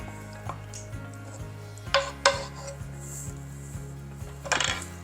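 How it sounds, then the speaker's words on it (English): A spoon clinks and scrapes against a pan as a meat mixture is scooped over tortillas for a Mexican casserole, with a few sharp metallic knocks and dull taps over a faint steady background hum. "spoon it out on top of those tortillas"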